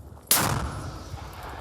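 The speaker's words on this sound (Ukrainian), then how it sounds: "у напрямку противника вилітають нові і нові подарунки з міномету М-75. Постріл!" A single loud shot from an M-75 mortar booms suddenly, then its sharp blast rolls away into a long fading echo.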